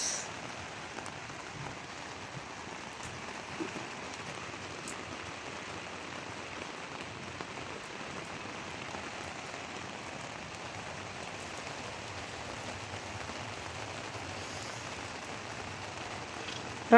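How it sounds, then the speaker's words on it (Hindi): Heavy rain coming down in Riyadh, a steady broad hiss of drops pattering on surfaces for a long stretch, with occasional sharper drips standing out and no voices. "काफ़ी तेज़ हो रही है बारिश"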